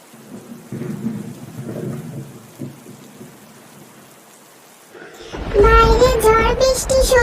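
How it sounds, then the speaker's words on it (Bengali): A cartoon thunderstorm sound effect starts with low rumbling thunder and rain. It swells louder near the end, where a high, tonal voice-like sound rises over the storm. "বাইরে ঝড় বৃষ্টি শুরু হয়েছে"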